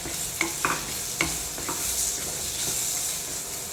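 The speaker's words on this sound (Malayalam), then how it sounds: "നമ്മൾ വേവിച്ച് വെച്ച കടച്ചക്ക ഇതിൽ കൊട്ടി കൊടുക്കും" Cooked breadfruit and sautéed shallots fry in a pan with a continuous bright sizzle, broken by a few sharp stirring taps and scrapes near the start, close and steady.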